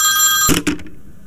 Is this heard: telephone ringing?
yes